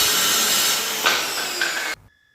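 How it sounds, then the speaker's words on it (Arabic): A Crown 7¼-inch 1500 W circular saw fitted with a 60-tooth blade cuts through melamine-faced wood with a loud, steady whine and grinding rasp, then cuts off abruptly, leaving a faint high hum. "نبعد شوية ونشغل المنشار، وبعد كده نسيبه ياخد حركته كاملة ونبدأ نخش على الخشبة ونقطع"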